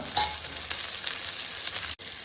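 Tomato and green chili sizzle steadily in hot oil for a Bengali puti fish curry, a close, even frying hiss with small crackles and a brief clatter.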